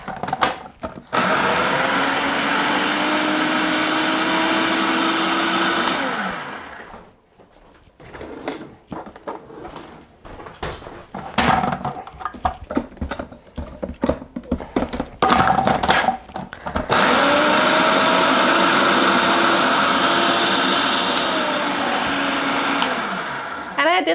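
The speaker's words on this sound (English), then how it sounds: "my peppers are in my food processor" Food processor pureeing jalapeño peppers, a loud steady motor whir running in two long stretches with a pause of clattering, knocking bursts between them.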